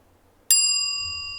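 A single bright bell ding rings out alone after a moment of near silence, sharp at the strike and then sustaining with a long, slowly fading ring.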